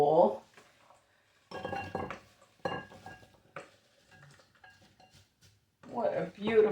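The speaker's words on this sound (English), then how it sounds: "now I am going to put this in this pretty little bowl" Waldorf salad is spooned into a small, pretty bowl with light clinks and scrapes of utensil against dish in short, scattered bursts. A voice speaks briefly between them.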